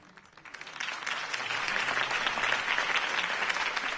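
Crowd applause in a Batman video game set in Gotham after a campaign speech for Harvey Dent, a dense steady clapping that swells in over the first second and holds loud to the end, with no one speaking.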